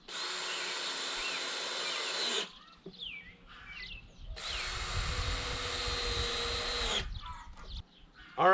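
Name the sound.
power drill driving decking screws into a Warre hive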